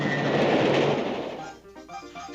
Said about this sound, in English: I think there is a train approaching.